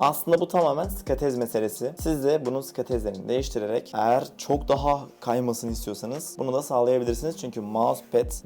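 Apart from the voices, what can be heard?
No everyday noises stand out.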